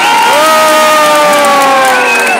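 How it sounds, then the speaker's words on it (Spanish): A loud crowd at a contest bursts into cheering and shouting, with high voices whooping and sustained excited yells filling the space; clapping is hard to pick out beneath the roar. "el público solamente con aplausos define quién se queda"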